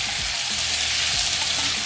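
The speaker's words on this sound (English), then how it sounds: "we're gonna go ahead and add our rajas. And of course, you want to go ahead and stir" Strips of poblano pepper rajas with onions sizzling loudly in a hot pan, steady frying hiss throughout with a couple of soft scraping stirs underneath, no voices.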